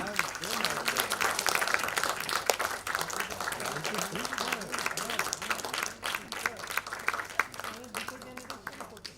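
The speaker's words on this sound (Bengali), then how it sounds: "একটু জোরে হাততালি দিন।" Audience at a Bengali cultural stage event clapping continuously, a dense, sustained ripple of applause with a voice talking over it through much of the stretch.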